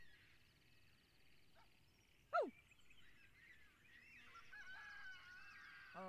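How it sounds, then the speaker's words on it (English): A single short, loud rooster call rings out near a full-moon glamping site, rising over a faint background of night insects and distant birds, with quiet before and after. "Oh, there was a rooster."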